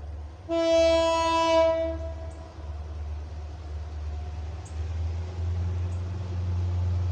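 Coal train passing with a loud, clear horn blast lasting about a second and a half, followed by a steady low rumble of rolling railcars continuing close by.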